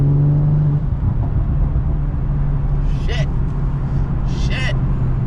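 A catless BMW M340i cruising on a snowy highway, its engine a loud steady low drone with road rumble throughout, while a voice talks over it.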